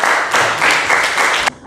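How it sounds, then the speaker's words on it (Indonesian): A classroom group gives a short burst of applause, dense and close, with the claps swelling in a few rhythmic pulses before stopping abruptly. "Kita berikan tepuk tangan untuk"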